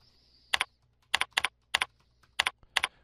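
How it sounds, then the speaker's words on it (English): Keys tapped on a computer keyboard while a title is typed into software: six short, crisp clicks, some in quick pairs, close and alone in a quiet room. "you can go in and type a title here"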